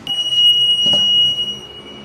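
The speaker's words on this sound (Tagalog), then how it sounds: "Kusama Japan Earthquake Alarm" A piercing high-pitched electronic tone from a handheld Kusama Japan earthquake alarm sounds continuously and loudly, with faint handling noise underneath.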